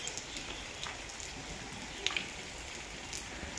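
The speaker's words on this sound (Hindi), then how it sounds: "ये आप देखें माशाल्लाह बारिश हो रही है हल्की हल्की" Light morning rain falling in a village, a faint steady patter with a few soft drips standing out now and then.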